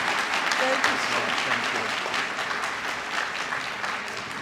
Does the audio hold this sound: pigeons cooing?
no